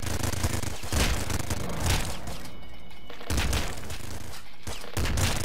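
Rapid sawn-off shotgun blasts from the video game Nuclear Throne fire in a dense, continuous barrage, loud bursts overlapping with sharp cracks and booming impacts for several seconds.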